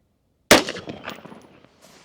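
A single sharp AR-15 rifle shot cracks out loud and close after silence, followed by a short ringing decay and faint mechanical rattle as the action cycles.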